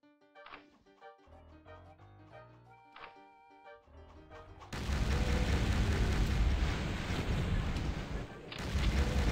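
Dynamite thrown by imps blows up in a Pirate Doom mod played through Doom Sigil: after quiet music, a sudden loud, sustained roar of explosions and blasts fills the rest of the clip, dense and booming with a brief dip near the end.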